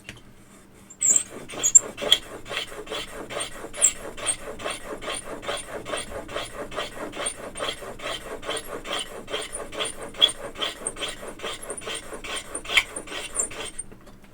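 Rhythmic rasping strokes of a cutting tool being sharpened, about two strokes per second, close and steady for over a dozen seconds with no talking.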